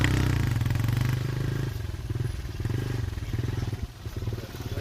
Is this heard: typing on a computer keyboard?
no